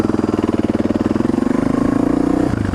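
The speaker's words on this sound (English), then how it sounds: "Behold the 2016 Honda Africa Twin. That's my new bike" A 2016 Honda Africa Twin motorcycle engine runs close by with a steady throbbing idle, rising slightly in pitch before easing back near the end.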